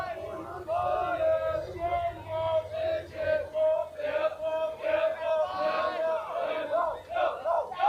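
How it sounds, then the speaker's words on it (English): A crowd cheers and yells in rising and falling waves at a high school baseball game between Fort Stockton Panthers and Andrews Mustangs, with sustained shouting and whooping from both teams' fans over about eight seconds. "Bunch of cheering from either team."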